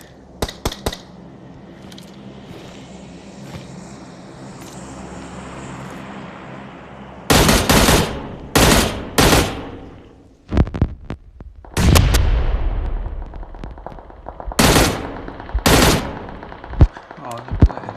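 Gunfire from the PUBG Mobile video game cracks in loud, close bursts, several quick shots in clusters separated by quieter stretches of game ambience and a low hum.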